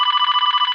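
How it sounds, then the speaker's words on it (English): A telephone ringing, a bright continuous trill of rapidly repeating bell tones, loud and alone, cut off after under a second. "the sound of a phone when someone is calling us"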